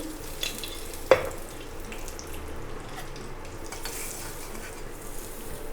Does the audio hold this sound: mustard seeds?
yes